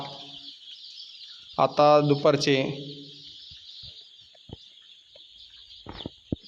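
Country chickens in a poultry shed holding about 1,750 birds cluck and chirp in short scattered calls, with someone speaking briefly over them.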